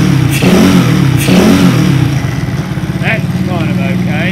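Supercharged NOS postie bike engine fitted with a third carburettor, revving up and down loudly and close by, with a steady rumbling idle between surges and a rising whine.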